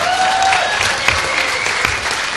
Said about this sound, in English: Round of applause for the guy who decided to come out of the closet